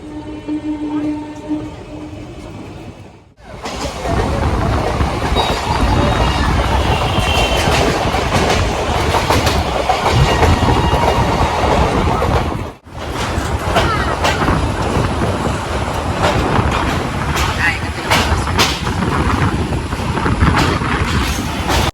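An Uttarbanga Express train rumbles along the rails at Bidhannagar station with loud, steady clatter and rushing noise, briefly cutting out before the roar resumes.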